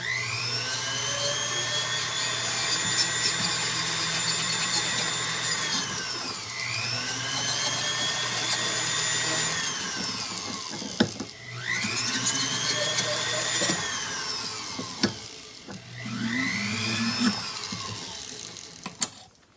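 Rotary tool spinning grit discs against a silver teardrop earring, a steady high whine with rising and falling pitch sweeps as the disc is pressed and eased off, broken by short pauses and clicks.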